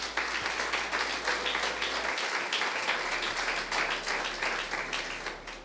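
A church congregation applauds the Lord, a dense, steady roar of many hands clapping together that carries on for several seconds without voices.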